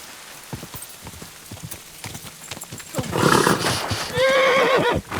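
In the medieval game Kingdom Come: Deliverance II, hooves clip-clop steadily over a soft rain-like patter before a horse lets out a loud, close, wavering neigh near the end.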